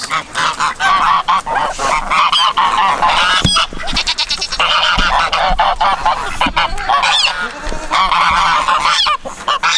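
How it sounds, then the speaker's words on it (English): A loud, dense chorus of geese honking continuously, many birds calling at once close by with no pause. "the geese are so loud"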